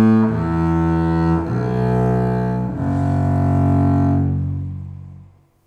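A double bass played with a horsehair bow draws three long, deep sustained notes in succession, rich and resonant up close, the last one ringing and fading out alone.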